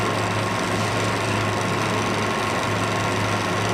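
A metal lathe runs with its quick change gearbox driving the lead screw and feed rod, producing a loud, steady, dense mechanical roar and hum with no pauses, close by and without talk.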